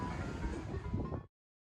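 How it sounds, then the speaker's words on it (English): Ice cream truck jingle playing on a street in Biloxi, Mississippi, a steady melodic tune over traffic rumble, fairly loud and continuous before cutting off abruptly. "Ice cream truck!"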